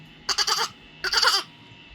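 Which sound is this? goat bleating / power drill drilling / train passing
goat bleating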